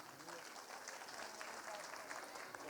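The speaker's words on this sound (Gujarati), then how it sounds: "જોરદાર તાળીઓ થઈ જાય." An audience at a school garba performance in Mamtamandir applauds with a steady, dense patter of clapping that sounds fairly distant and faint.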